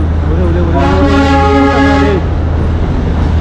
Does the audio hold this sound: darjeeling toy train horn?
yes